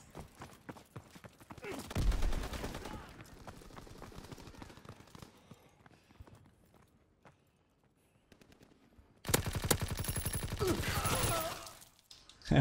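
Gunfire from the World War II shooter Call of Duty WW2, played with an MP40, bursts out in two loud rapid automatic volleys separated by quieter stretches of footsteps and faint clatter.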